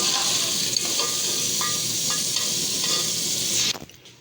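Chopped bottle gourd and potato pieces frying to a brown colour in a pan, a steady loud sizzle with a few stirring scrapes, cutting off abruptly near the end.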